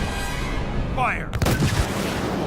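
A spacecraft weapon fires in the Halo film Fall of Reach: a short rising whine, then a heavy booming launch blast that rumbles loudly, with a commanding voice heard just before.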